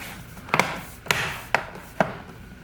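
HP Notebook 14s laptop bottom cover clips snapping into place: four sharp, close plastic clicks spaced about half a second apart, with no talking.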